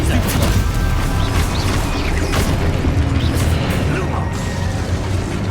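Heavy booming blasts from a fire-based blasting spell in a Hogwarts Legacy duel, dense and continuous with crashing impacts and a shouting voice over the combat.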